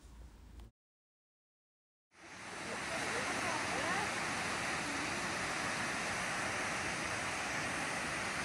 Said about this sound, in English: several of us went to Carrington Falls to have a look at the gorgeous waterfalls